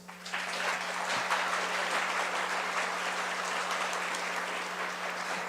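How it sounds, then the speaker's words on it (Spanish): Steady applause from an audience thanking the speakers at an administrative law panel session, a continuous dense clatter of clapping with a low steady hum beneath it. "Agradecemos a nuestros ponentes con un fuerte aplauso"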